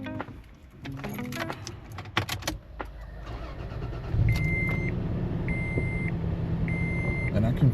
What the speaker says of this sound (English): all of a sudden we're getting a misfire